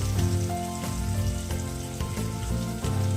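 Spice masala of ground chili powder and coriander powder frying in oil for a manathakkali vathakuzhambu, a dense, close sizzle that holds steady through the short stretch without talk.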